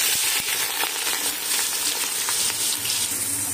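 Onions fry in about four tablespoons of oil in a large vessel, giving a steady, close, dense sizzle with faint crackles throughout and no talk.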